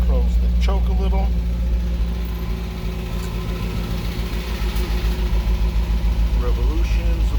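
An MG car engine idling on cold start with the choke partly closed, a close low rumble with a steady pulsing beat, while someone speaks briefly over it.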